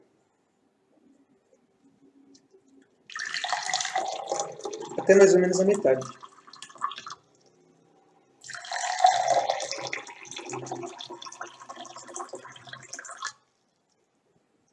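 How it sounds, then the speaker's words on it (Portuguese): Water is poured from a tap or jug into two glass cups in two separate bursts of splashing, gurgling fill, each several seconds long, close by, with someone speaking over the first pour. "com os 2 copos, agora a gente vai colocar água."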